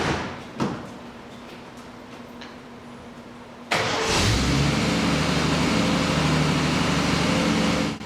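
After a quiet stretch with a few clicks, a 1973 Triumph TR6 engine starts abruptly, then runs loud and steady for several seconds.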